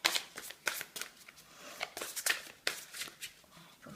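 A deck of chakra cards is shuffled up close, giving repeated quick papery riffles and flutters in short bursts with brief pauses between them, fairly soft and with no talking over them.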